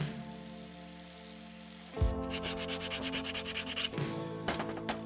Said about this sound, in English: I need to sand this a bit and give it its shape